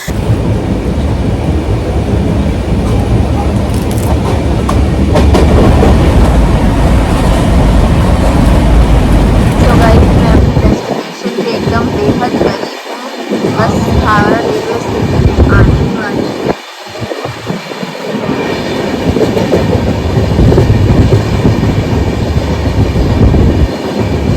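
Train pulling into Howrah railway station, a long loud rolling rumble of railcars with rhythmic clatter and heavy low thumps as wagons pass, plus a thin high whine, continuous throughout.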